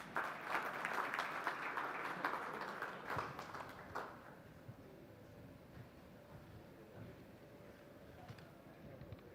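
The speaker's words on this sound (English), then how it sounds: "Please welcome them with a huge round of applause." Audience applause in a packed hall at a national management convention greets arriving speakers, a broad wash of clapping that holds for about four seconds and then thins into low room murmur.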